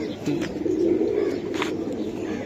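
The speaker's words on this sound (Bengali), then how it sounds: "খুবই সুন্দর হয়েছে কবুতর দুইটা" A pair of pigeons coos softly and steadily nearby, low rolling calls running continuously with a few faint chirps over them.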